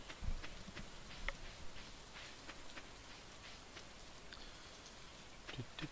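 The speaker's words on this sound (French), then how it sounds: "En même temps il pleut quoi" Rain falls in a farming video game as a steady, soft hiss with scattered light droplet ticks, fairly faint and even throughout with no voices.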